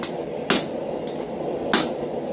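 Blacksmith's hammer striking hot steel while forging a hardy hole spring fuller, two sharp ringing blows spaced about a second apart with a fainter tap between, close and clear over a low background hum.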